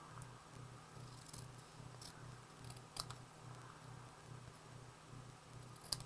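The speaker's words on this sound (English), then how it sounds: "I'm going to take this and trim it pretty closely to the word" Scissors trimming paper closely around a printed word for a card project, a quiet rhythmic series of snipping cuts with a few sharper clicks, close by and alone without talk.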